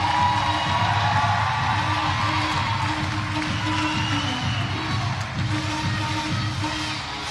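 A crowd at a CrossFit semifinal competition keeps up a steady roar of cheering, whoops and shouts in a large echoing venue, loud and continuous throughout.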